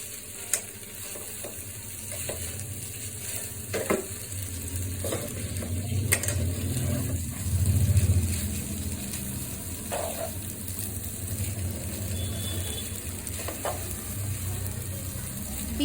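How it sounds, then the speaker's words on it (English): Noodles tossed gently with vegetables and eggs in a hot pan, a steady sizzle running throughout with occasional soft scrapes and taps of the utensil, close and moderately loud. "Be very gentle while mixing the noodles with the vegetables and eggs, so the noodles don't break."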